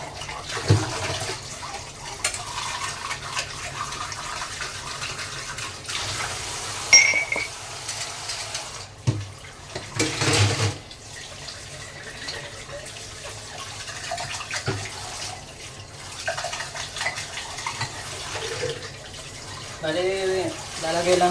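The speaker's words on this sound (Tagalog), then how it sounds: "Siyempre sa pagbabanlaw, ganun din, unahin mo rin mga baso." Tap water runs into a kitchen sink while drinking glasses are rinsed, a fluctuating splashing rush broken by occasional clinks of glass, close by and continuous.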